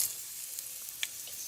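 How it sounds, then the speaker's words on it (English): Black mustard seeds, dried red chilies, cumin seeds and dry curry leaves fry in hot oil, a soft steady sizzle with a few small pops, quiet and close, without any talking. "So into this oil, we're going to add some black mustard seeds, some dried red chilies, some cumin seeds, and some curry leaves"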